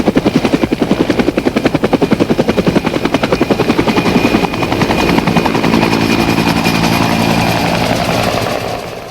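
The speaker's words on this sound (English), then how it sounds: "The Army still has its venerable AH-1 Cobra attack helicopters." An AH-1 Cobra attack helicopter flies past, its rotor thumping in a loud, rapid, steady chop that gives way midway to a smoother, sustained engine and rotor roar.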